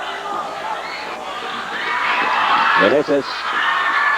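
A packed arena crowd roars and cheers for Vergel Meneses' fancy move in a 1992 PBA basketball game, Presto versus Swift, the sustained noise rising under a commentator's steady talk.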